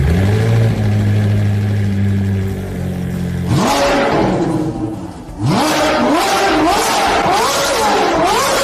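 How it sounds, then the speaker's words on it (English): A restored, formerly abandoned Ferrari 458 with a naturally aspirated engine, throttle cable newly fixed, idles loudly up close and then is revved hard several times. Each rev brings a sharp climbing roar and a quick drop, with the blips coming faster toward the end. "Let's hear the roar of that naturally aspirated 458 engine."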